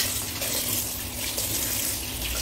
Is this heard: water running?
yes